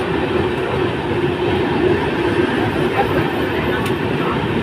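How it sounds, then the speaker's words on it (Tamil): Paschim Express, a Mumbai to Amritsar passenger train, rumbles past close by at Vapi station in India, a loud steady roar of wheels and carriages filling the whole stretch without letup. "மும்பைலேருந்து அமிர்த்சர் போகிற ட்ரெயின்."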